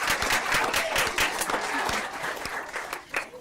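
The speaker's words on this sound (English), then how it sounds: "A round of applause to them again." A crowd applauds steadily, many hands clapping at once in a dense, sustained burst that tapers slightly toward the end.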